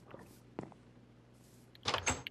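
A game door is set in place with a short click, then a brighter clunking burst near the end; a steady low hum runs underneath.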